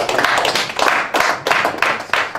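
Hands clapping in praise of the Lord during a French-language prayer broadcast: a few sharp, close, evenly spaced claps in quick succession, loud and dry with no voices over them.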